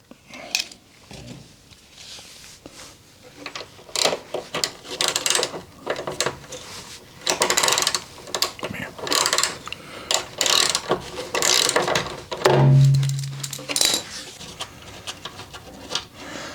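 Ratchet socket wrench clicking as it undoes quarter-inch BSF bolts on a Rover P4 during body repairs, with bursts of ratcheting and metallic knocks in a workshop, fairly close and moderately loud.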